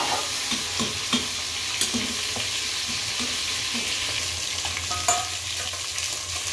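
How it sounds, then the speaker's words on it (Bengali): Fish pieces fry in a pan of hot oil, making a steady close sizzle with scattered crackles and a few sharp clinks from a stirring utensil, with no voices. "মাছগুলি ভাজি করে নিই"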